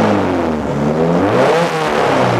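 A turbocharged VTEC drift car engine revs hard up close, a loud, rich mechanical roar whose pitch sweeps upward and then falls back over a couple of seconds, with no voices.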